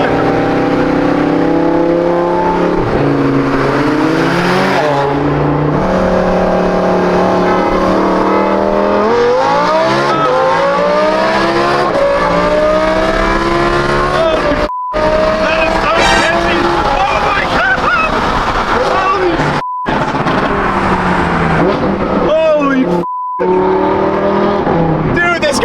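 A Lamborghini and a McLaren race side by side, engines rising and falling through revs and shifts with tire noise, loud and sustained, with people talking over the roar.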